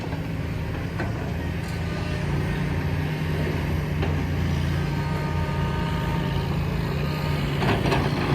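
Ten-wheel and six-wheel trucks haul soil close by. Their heavy diesel engines rumble loud and steady throughout, with a few faint clanks and thumps over the drone.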